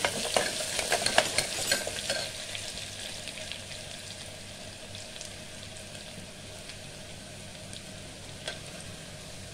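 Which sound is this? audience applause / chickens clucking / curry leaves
curry leaves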